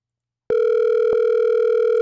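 A steady electronic ringback tone of an outgoing phone call starts after a moment of silence and drones on continuously, loud and close, with a brief click partway through.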